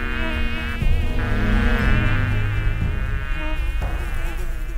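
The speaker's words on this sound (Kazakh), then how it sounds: "Ара маса көк шыбын қалтырады. Бірі «ззз», бірі «жж», бірі «жу»" Close, continuous buzzing of bees, mosquitoes and bluebottle flies, several droning tones wavering and overlapping.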